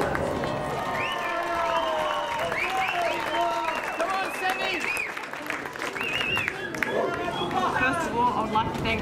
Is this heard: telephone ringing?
no